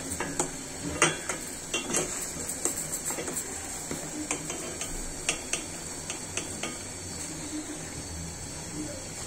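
Vegetable stems drop into a simmering pan of loitta dry fish curry, with faint steady bubbling and a string of light metallic clinks and taps from utensils, close and fairly quiet.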